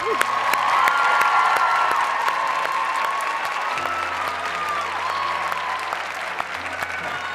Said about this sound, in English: Let's applaud them together.